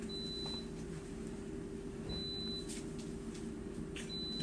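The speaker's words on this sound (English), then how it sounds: "if you hear that beep, that is the french fries from the air fryer" An air fryer cooking french fries gives a few faint electronic beeps, spaced apart, over a steady low kitchen hum.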